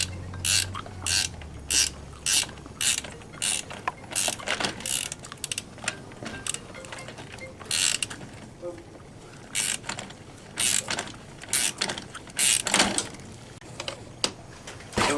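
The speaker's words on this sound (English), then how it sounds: "And screw the bolt so it's engaged the threaded hole." A bolt is screwed into a threaded hole while a detection system is installed, making repeated sharp ratcheting clicks in short bursts with brief pauses between them. The bursts are close and loud.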